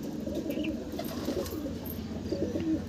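Pigeons in a loft coo softly in overlapping low phrases, steady and moderately close, with faint higher chirps scattered through.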